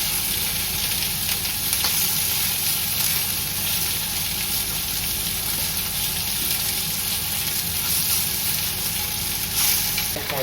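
Japanese-style chicken wings sizzle and crackle in a hot pan on the stovetop, a steady close frying hiss that runs throughout with no one talking.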